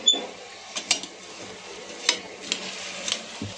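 A spoon scraping and clinking around a cooking pot of rice and hot water for vegetable pulao, irregular stirring knocks over a faint background hiss, close and fairly quiet.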